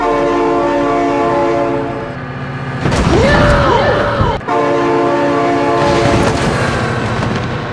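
A loud, sustained train horn in the game BeamNG.drive blares over the rumble and clatter of a train passing close by, with a brief dip in the middle.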